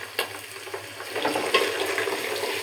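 Ginger paste, cumin and garlic fry with onion in a pan for vegetable khichuri, a close, steady sizzle broken by scraping and clinking taps from stirring.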